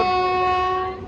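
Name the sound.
train, Bhopal Jodhpur Express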